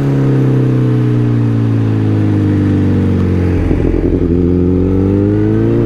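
A car engine drones loudly at close range, then blips and revs through a downshift, its pitch dropping and climbing again as the gears change, with no talking.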